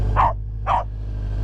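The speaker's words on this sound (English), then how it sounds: "I don't know why I'm bothering to tell her to stop barking, because we all know she's not gonna until she's ready to stop barking." A cattle dog barks twice in quick succession, two sharp, clear barks close by over a low background hum.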